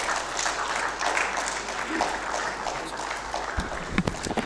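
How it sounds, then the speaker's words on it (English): Audience applause at a defence and aerospace festival event in India, a dense broadband patter of many hands filling the hall at steady loudness, with a few louder claps near the end. "A huge round of applause, ladies and gentlemen."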